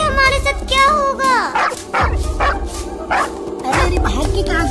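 A cartoon dog yips and barks in quick bursts, close and loud, mixed with excited cartoon voices and squeaky character sounds during a chase.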